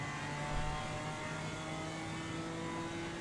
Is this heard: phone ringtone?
no